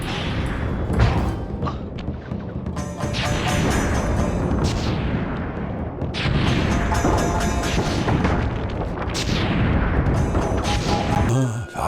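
Firework explosions from the Flame Fu technique in the PS2 game Sly 3: Honor Among Thieves. Loud booming bursts erupt every few seconds over a constant roar of crackle and game music, close and dense.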